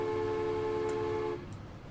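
A train in the video game Transport Fever gives a steady, loud tonal hum like a horn or engine drone, which cuts off abruptly partway through, leaving quieter background noise.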